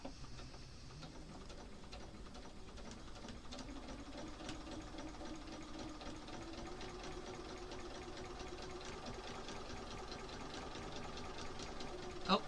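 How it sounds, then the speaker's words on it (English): A sewing machine stitches quilt pieces together with a low, steady, quiet whir that runs on without a break and has no talking over it. "while I start sewing."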